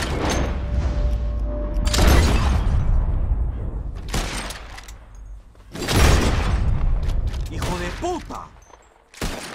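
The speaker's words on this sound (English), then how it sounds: "Whoever shoots more of these bottles wins." Gunshots in Red Dead Redemption 2 burst out in a bottle-shooting contest, several loud cracks spaced about two seconds apart, each followed by breaking glass, over a steady game background with a brief shouted voice.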